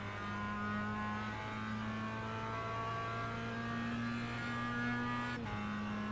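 Mazda MX-5 race car engine in iRacing on Okayama circuit, a steady sustained drone holding high revs under load up a hill, with a brief dip near the end as a gear shift cuts in, no talk.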